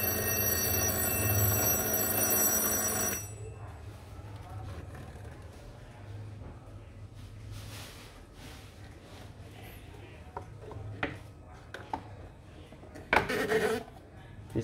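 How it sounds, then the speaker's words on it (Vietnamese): A Citizen Japan alarm clock with a bowl-shaped bell rings in a rapid, bright metallic clatter for about three seconds, then stops. Someone talks quietly afterward, with occasional small handling clicks. "Nó có chung báo thức nè các bạn"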